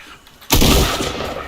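A single loud gunshot blast in the video game Fortnite breaks a quiet moment, then a long echoing rumble decays behind it.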